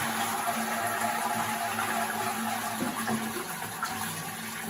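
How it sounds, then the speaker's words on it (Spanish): A modern toilet cistern flushing and draining as its supply valve is shut off, a steady close rush of water running throughout with a few small knocks near the end. "vamos a cerrar la llave"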